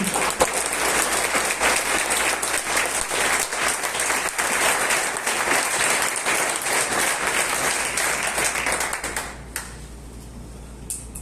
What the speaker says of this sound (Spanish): Quiero que le brinden un fuerte aplauso al Señor